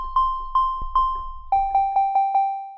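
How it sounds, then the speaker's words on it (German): A synthesizer oscillator set to a plain sine tone in Bitwig sounds a series of short, bell-like plucked notes. Four ring at one pitch, then five quicker ones follow at a lower pitch, faint and clean, each decaying quickly. "So, und da habe ich im Prinzip sowas wie einen Sinuston."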